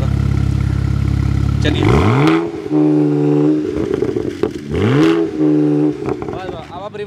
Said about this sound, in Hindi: अभी ये देखो एग्जॉस्ट की आवाज़ सुन लो एक बार थोड़ा सा।